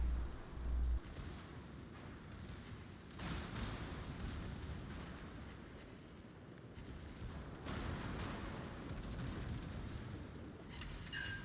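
Faint, distant booming of HE shells fired at a burning ship in a naval combat video game, a few muffled bursts over steady low rumble, no talking.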